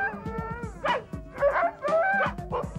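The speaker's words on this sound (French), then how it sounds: "Ah, je vous dis que ces chiens-là, ils sont excités, ils ont hâte de partir braver le froid." Excited sled dogs barking, yipping and whining together before being hitched to a sled for a ski pull in the cold, close and continuous with overlapping howls.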